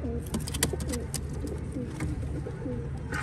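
Racing pigeons cooing in soft, repeated low throaty calls, several overlapping, over a constant background hum with faint chirps.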